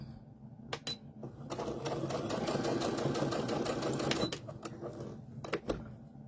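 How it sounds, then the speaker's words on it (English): A sewing machine stitches fabric along a seam on a small fabric key holder, starting with a few isolated clicks before running in a continuous close mechanical whir, then slowing to scattered taps at the end. "So I'm sewing up to this seam."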